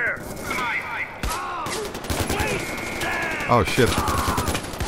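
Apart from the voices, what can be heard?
gunfire in the video game Far Cry 4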